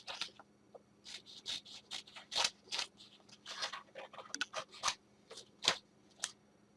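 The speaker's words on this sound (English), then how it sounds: "I'm just going to cut this one out." Scissors snip through a paper shipping label in quick, crisp cuts, a dozen or more irregular snips close up against quiet room hum.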